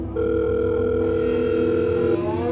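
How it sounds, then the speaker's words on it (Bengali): A telephone line tone sounds while a call is being placed, a steady sustained electronic tone with harmonics lasting about two seconds before cutting off, clear and alone with no speech. "তাকে একবার ফোন করল।"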